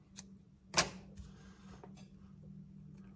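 Scissors snip through peacock feathers while a crappie jig is being tied, giving one sharp close cut followed by a few faint clicks in a quiet room.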